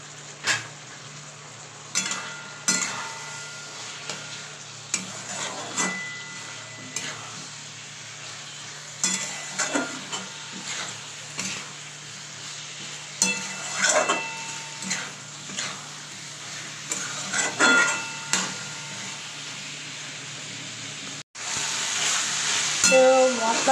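Vegetables and green chillies being stirred into a spice paste frying in oil in a pan: a steady sizzle runs throughout, broken by repeated scraping and clinking strokes of a utensil against the pan.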